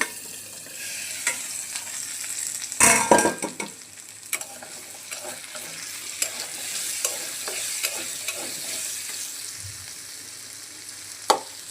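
Boiled jackfruit seeds are stirred and fried in a pan, making a soft continuous sizzle broken by scattered scrapes and taps of the utensil, with one louder clattering burst early on.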